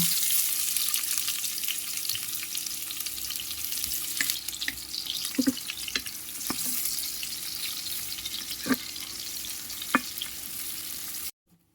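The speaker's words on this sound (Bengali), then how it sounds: "কড়াইয়ের তেল গরম হয়ে গিয়েছে, এখন আমি দিয়ে দিব পেঁয়াজ কুচি" Chopped onions fry in hot oil in a wok, a constant close hiss and crackle with a few sharp clinks and scrapes from a spoon against the metal, and no talking.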